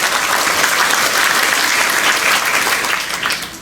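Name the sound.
applause for graduates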